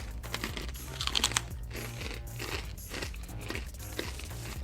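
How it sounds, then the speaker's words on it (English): Close crunching of crispy mushroom chips being chewed, a steady run of dry crackly bites and chomps with a few louder crunches near the start. "These are really crispy, so apologize in advance if you guys hear the crunching."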